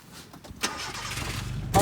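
A 1989 Nissan S-Cargo starting up: a short cranking whir that catches into a steady running engine, close and fairly loud, and ends with a louder burst.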